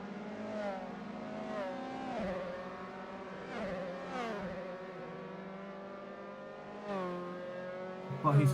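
Formula 3 race cars in a Silverstone racing game scream past at high revs, their engine notes rising and falling repeatedly through gear changes and a corner complex, loud and continuous.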